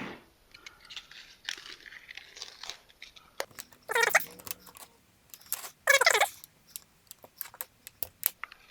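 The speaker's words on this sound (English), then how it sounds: "first let's cut up the Spam" Cutting up Spam for a DIY MRE meal, with close, crisp snips and crunchy slicing sounds in irregular bursts, two louder crackly spells standing out among quieter handling noises.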